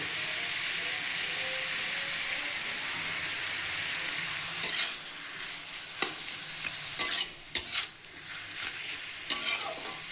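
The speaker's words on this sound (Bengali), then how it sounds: "এটা একটু ভাজা ভাজা হোক" Boiled potato mixture frying in a pan with a steady hiss, then several loud scrapes and stirs of a spatula in the second half.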